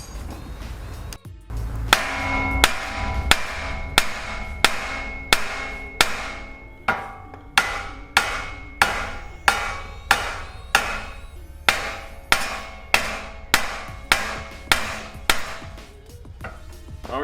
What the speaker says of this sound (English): We need to get the big hammer now.